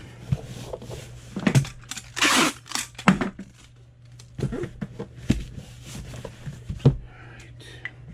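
Packing tape is pulled off its roll and torn in a few sharp, crackly bursts, with ripping and crinkling at close range while eBay orders are packed, and brief taps and handling noises in between.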